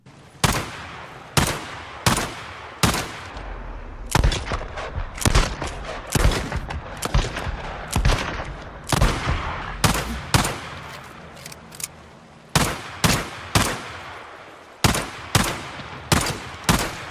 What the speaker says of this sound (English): Next up, Eliminator. Slow rate of fire, but it packs a punch.